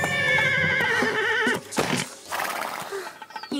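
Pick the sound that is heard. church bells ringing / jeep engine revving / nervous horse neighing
nervous horse neighing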